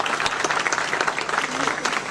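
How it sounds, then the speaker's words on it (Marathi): An audience at a school building inauguration bursts into steady, dense applause, continuous clapping from many hands filling the room, fairly loud and close. "जरा जोरात टाळ्या झाल्या पाहिजे"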